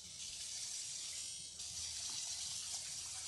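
Steady broadband hiss of running water, like a tap or sink filling, continuous throughout and slightly louder in the second half, with no speech over it.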